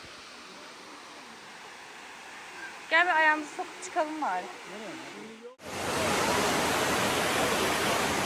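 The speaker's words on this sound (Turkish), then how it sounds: "Küçük şelalelerden birisi şu. Şelale daha olamamış. Şelalecik." A small waterfall near Erfelek pours with a loud, steady rushing roar that cuts in sharply after a quieter stretch where people talk.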